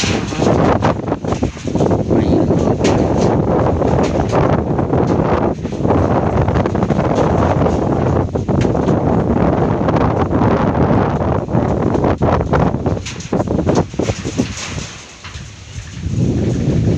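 Strong, cold wind roars steadily and loudly across the microphone outdoors, near where ducks and chickens are kept, buffeting without pause before easing slightly near the end.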